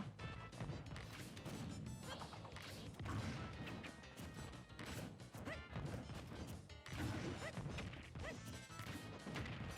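King K. Rool fires cannonballs during a Super Smash Bros tournament match against Mario and others, with repeated loud crashing and thwacking impacts over dense, continuous game audio and crowd noise.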